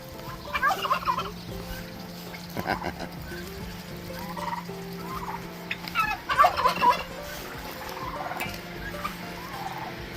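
A big tom turkey gobbles in a chicken run on a rural property: rapid rattling gobble bursts near the start and again past the middle, heard at moderate distance over a steady low background hum.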